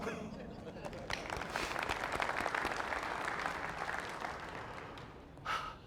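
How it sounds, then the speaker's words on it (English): Conference keynote audience breaking into applause, a swell of many hands clapping that builds quickly, holds for a few seconds and fades, with a short burst of noise near the end. "Give yourself a round of applause."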